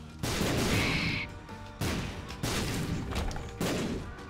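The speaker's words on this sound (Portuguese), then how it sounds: "Vê se tu gosta de tomar bomba na cara." Bomb explosions in The Binding of Isaac: Rebirth, a run of loud, close blasts with about four bursts in quick succession, each decaying into a rumbling crackle.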